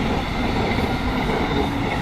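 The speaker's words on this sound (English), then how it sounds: "look at the big fast Amtrak" A fast Amtrak passenger train passes close by during a Route 66 festival, a loud, continuous rumbling roar of wheels and rails that holds steady throughout with no talking.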